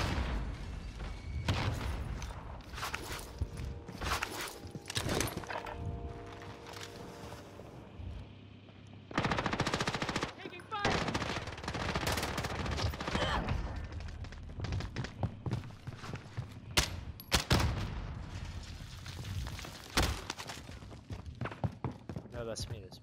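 Heavy gunfire and thudding blasts from a Call of Duty Modern Warfare match, dense bursts and booms throughout, with players talking over the action.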